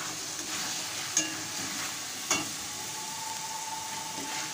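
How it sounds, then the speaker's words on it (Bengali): A turmeric spice paste for mushroom curry sautés in a pan with a steady close sizzle, broken by two sharp spatula taps as it is stirred. No voices. "এইভাবে করে পাঁচ ছয় মিনিট ধরে মশলাটাকে কষিয়ে নেব আমি।"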